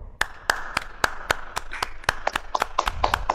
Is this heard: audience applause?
yes